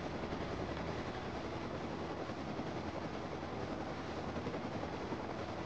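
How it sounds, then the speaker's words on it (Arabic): An attack helicopter flies overhead in the survival game Rust, giving a steady, loud rotor-and-engine roar that holds at an even level throughout with no gaps. "مشان طيارة الهيلي الاتاكلي ما تضربك"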